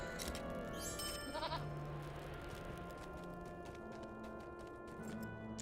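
A goat bleats in a video game, a short wavering call near the start over a steady bed of game ambience and music, with no talk.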